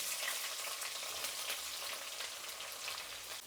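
Red onion and green chillies frying in hot oil with mustard seeds in a pan, a dense continuous loud sizzle like rain that holds steady throughout.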